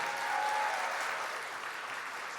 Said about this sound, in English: I want to give a special round of applause to the majority leader, our Senator Chuck Schumer, for all he does.